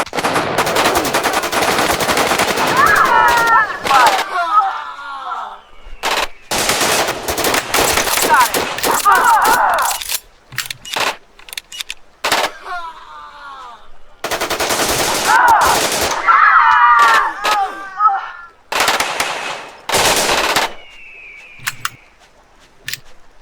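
Rapid bursts of automatic gunfire from the video game Black Bag come in loud, separated volleys broken by short silences, with occasional single shots and distant echoes between them.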